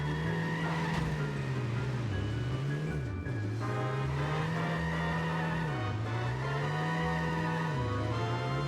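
Car engine driving steadily with pitch dips from gear shifts and tire squeals, in The Simpsons Hit and Run video game, a fast but very sensitive car, loud and continuous with no talking.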